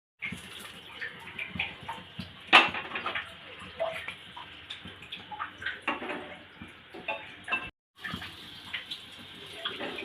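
A paratha fries in a pan in a mini kitchen, a faint continuous sizzle with watery crackles and a few sharper pops, broken by one brief pause.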